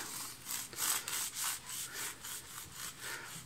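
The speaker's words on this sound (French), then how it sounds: "Je fais une petite coupe ici, avec un couteau scie de préférence" A serrated knife saws back and forth through a bread bun with a rhythmic rasping, about a dozen quick strokes, close and fairly quiet.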